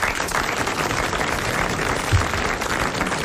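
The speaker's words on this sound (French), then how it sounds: "les applaudissements aux spectateurs du grand studio" Studio audience applause on a 1980 French television game show, a steady broadband wash of many hands clapping at once, sustained and even across the whole stretch.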